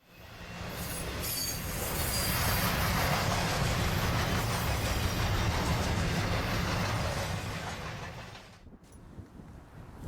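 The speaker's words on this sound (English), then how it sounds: "we see a pair of SD40-2 locomotives being moved from Winslow to the train's destination in" A long freight train with a pair of SD40-2 locomotives rolls past near Flagstaff, Arizona, a loud sustained rumble of wheels and cars with squealing flanges, swelling up and fading away at the end.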